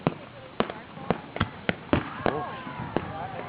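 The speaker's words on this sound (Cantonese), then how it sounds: "其實個煙花唔係好大，但我坐喺下邊呢就真係好大。" Fireworks for Independence Day go off above Woodland Lake, San Antonio, in a rapid string of sharp, fairly close bangs under ongoing chatter from nearby spectators.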